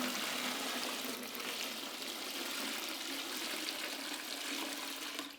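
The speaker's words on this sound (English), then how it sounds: "so I'm just going to go ahead and pour water" Water pours steadily into a bucket of clay, a continuous close splashing rush with no pauses and no speech over it.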